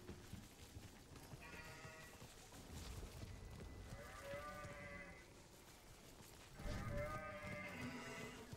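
Several sheep bleat in a small group in the video game Warframe (Duviri), a few drawn-out calls spaced apart over a low background rumble.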